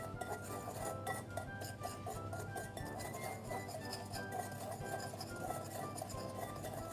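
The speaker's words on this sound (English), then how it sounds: "I'm going to mix everything together with a wire whisk" A wire whisk mixing dry ingredients and cinnamon in a bowl for an apple streusel coffee cake, a quick continuous run of light metallic clinks and taps against the bowl, close and steady.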